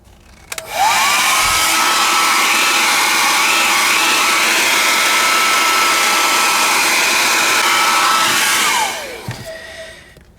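A heat gun heating Talon grips on an IWI Tavor rifle switches on with a click, blows a loud steady whoosh and whine for about eight seconds, then spins down and clicks off.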